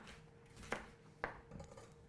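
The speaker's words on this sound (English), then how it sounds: "Now cutting a pepper, I just want to cut it into long slices" A knife cuts a pepper into long slices on a board, two crisp chopping taps about half a second apart followed by a softer scrape, faint and close with no talking.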